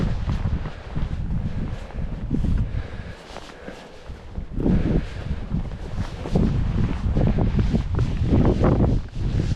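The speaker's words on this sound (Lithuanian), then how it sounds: "Vėjas nemažas." Strong wind buffets the microphone on a ridge of Snowdon mountain. A loud, continuous low rumble rises and falls in gusts for the whole stretch.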